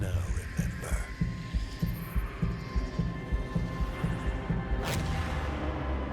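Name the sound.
heartbeat sound effect in Warframe trailer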